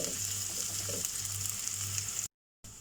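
Onions fry in oil in a pan, giving a steady close sizzle and hiss that runs continuously, then cuts out briefly near the end.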